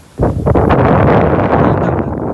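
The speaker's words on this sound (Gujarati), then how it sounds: "એટલો પવન મિત્રો આવી રહ્યો ને કે વાત જ ના થાય" Strong gusting wind ahead of a storm in Dehgam roars loudly into the microphone after a brief quiet start, then holds as a heavy, buffeting rush.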